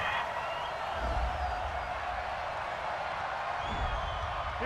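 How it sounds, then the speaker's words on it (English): A home football crowd boos after a pass interference call at a San Francisco 49ers vs. Green Bay Packers game, making a dense, sustained stadium roar that holds steady throughout. "Some boos coming down right now from this home crowd after that call"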